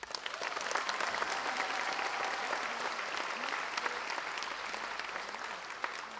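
A crowd at a May 2010 graduation dance celebration applauds steadily, with dense, continuous clapping that holds at an even level for about six seconds and no clear speech.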